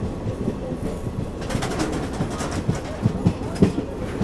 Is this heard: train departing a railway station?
yes